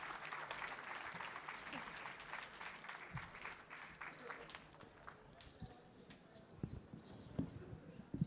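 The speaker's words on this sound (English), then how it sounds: "Big round of applause, please." Audience applause at the Jaipur Literature Festival, fairly faint clapping from a crowd that fades over the first half, followed by scattered thumps and handling sounds.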